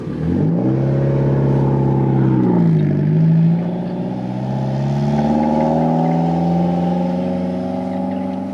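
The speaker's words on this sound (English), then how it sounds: "apparently we're having an impromptu last minute drift event here in my yard again" A car drifting in a yard, its engine revving hard and holding a loud, steady droning whine that dips and climbs again, close and with no talk over it.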